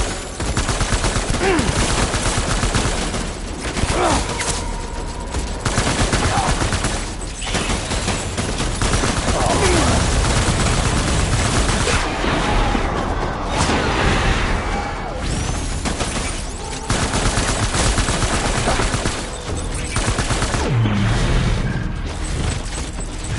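Soldiers in the video game Death Stranding fire in long, dense bursts of automatic gunfire. The shooting is loud and nearly continuous, with short lulls, mechanical clatter and faint voices underneath.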